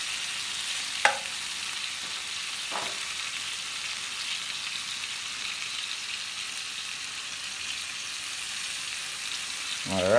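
Bacon strips sizzle and crackle steadily in a hot frying pan, a dense, even hiss with a couple of faint clicks from handling.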